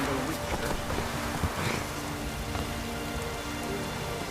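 Drizzling rain in The Witcher 3: Wild Hunt on PlayStation 5, a dense, steady hiss of fine drops pattering on surfaces, even and continuous with faint background voices.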